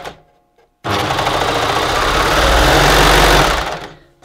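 Sewing machine stitching the last few stitches along a fabric strap for a cami top, a loud close burst of fast, even needle clatter and motor hum that starts abruptly and then winds down.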